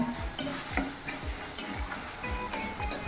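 Curry with tomato sauce sautéing in oil in a pan, a steady quiet sizzle broken by regular stirring scrapes and light ticks of the spoon against the pan, heard up close without talk.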